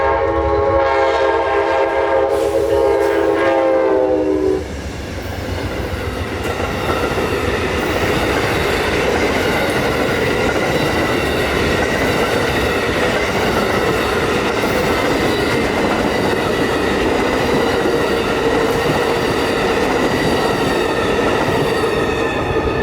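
Amtrak 91 passenger train passing in Tampa, opening with a loud sustained multi-tone horn blast for about five seconds, followed by a steady close rumble and clatter of cars rolling by for the rest.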